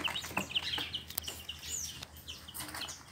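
Young chicks kept in a box under a heat lamp, peeping in quick, high, irregular chirps, close by and fairly soft.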